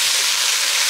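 Food frying in a pan on a home stove gives a steady, even sizzling hiss that stays close and constant throughout, with no voices.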